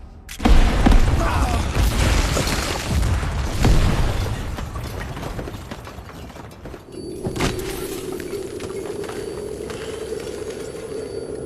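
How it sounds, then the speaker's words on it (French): A grenade explodes in an action film with a heavy, booming blast up close, its rumble trailing off over several seconds before a second thud and a lingering tonal hum. "Grenade!"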